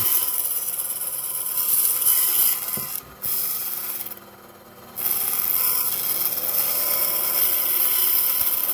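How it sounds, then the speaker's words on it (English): A continuous grinding drill whine boring holes in metal for a guitar's 5-way switch runs throughout, briefly dipping and pausing twice before resuming at full strength, close by. "Gonna punch a hole where I want to drill these holes for the 5-way switch."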